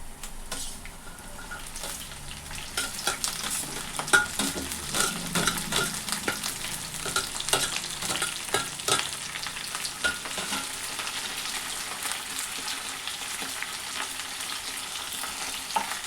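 Ginger, green chillies and curry leaves frying in hot oil, a lively close crackle and sputter with frequent stirring scrapes, steady through the whole stretch without speech.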